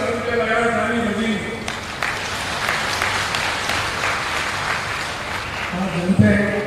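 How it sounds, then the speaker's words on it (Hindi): Audience applause at a chief minister's development-works event in Kumedi, Indore, a steady crowd clapping that swells through the middle, with someone speaking over it at the start and end. "ताली बजी।"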